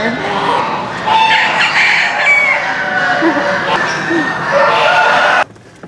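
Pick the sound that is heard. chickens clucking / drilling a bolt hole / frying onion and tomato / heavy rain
chickens clucking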